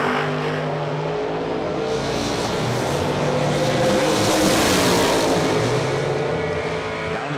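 A 1995 Chevrolet drag car roars down the strip at a racing event, a loud sustained engine howl that swells as it passes close and then eases slightly as it pulls away.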